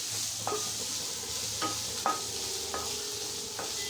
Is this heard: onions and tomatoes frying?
yes